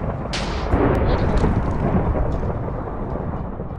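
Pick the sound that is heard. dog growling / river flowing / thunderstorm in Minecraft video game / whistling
thunderstorm in Minecraft video game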